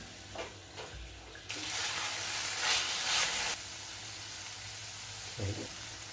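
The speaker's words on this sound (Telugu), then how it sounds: "ఈ రెండింటిని ఒక 3-4 నిమిషాల పాటు వేయించుకుందాం" Fresh peas and fenugreek leaves frying in a pan, with a steady hissing sizzle that swells loud for a couple of seconds, then settles to a softer fry, with a few light clinks near the start.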